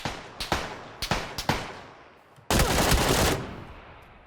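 Gunfire in PUBG: several sharp single shots cracking in an irregular sequence, then a sustained loud burst of rapid fire that slowly tails off, with almost no talk.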